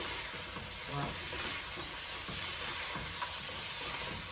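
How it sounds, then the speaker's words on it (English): Pork added to a hot pan and stirred for ginger pork, giving a steady broadband sizzle with soft scraping stirs throughout, close and moderately loud, with no voices. "Now, we'll add the pork. And mix everything up."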